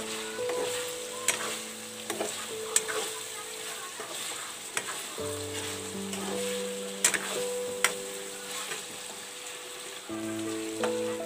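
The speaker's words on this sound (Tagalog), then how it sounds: "Haluin lang natin guys para pantay yung pagkaluto ng karne natin." Chicken meat cooking in a pan for dinuguan or tinola while being stirred gives a steady sizzle and frying crackle with occasional clicks and scrapes, heard close, alongside a faint background melody.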